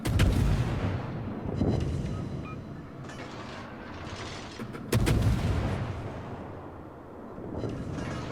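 Destroyer guns fire in World of Warships, the American Tier 10 premium USS Somers loosing heavy booming salvos, one at the start and another midway, each rumbling out over continuous engine and sea noise.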